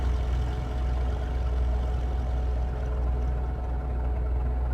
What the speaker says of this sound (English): the engine start sound initially is okay in my opinion, but then this sound, I'm not sold on it. It sounds a bit like a tin can